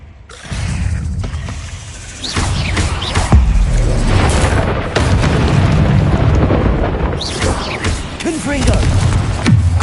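Confringo spell blasts in the Hogwarts Legacy video game, a dense run of loud booming bursts and crackling impacts, with a sharp onset at the start and several distinct hits rumbling across the whole stretch.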